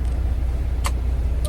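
The old work truck called the Starship idles and reverses toward a small pile of unbucked logs at a woodlot, a steady low rumble up close with a couple of brief high clicks.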